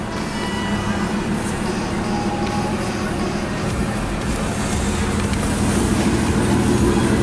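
An Aston Martin engine running at a steady idle, a continuous low rumble with a faint hum, close and even throughout.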